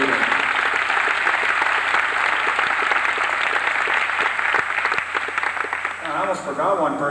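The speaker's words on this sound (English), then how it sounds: "let's give them a round of applause with Chris Brown" An audience at a 1984 Wickliffe High School marching band concert applauds the percussion section, giving steady, dense clapping across the hall that thins slightly near the end.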